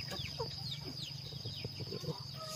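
Several chickens, including a Brahma, cluck and chirp in quick, overlapping bursts nearby, over a steady background hum.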